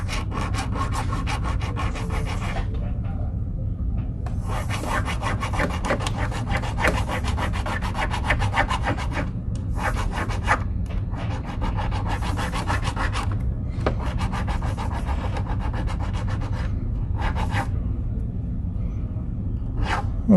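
A hand file rasps steadily against a cast silver pendant in long continuous strokes, broken by a few brief pauses, close and fairly loud throughout.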